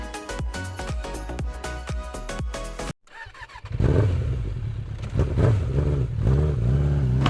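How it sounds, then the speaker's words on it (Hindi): Music plays, cuts out abruptly, then a motorcycle engine starts and revs up loudly, roaring steadily as it pulls away. "विभू माँ की बात सुने बिना बाइक लेकर निकल पड़ा।"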